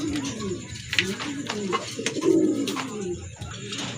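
A pair of jet-black Bombay pigeons coo repeatedly in soft, throaty rolls close by, with a person's voice mixed in among the calls.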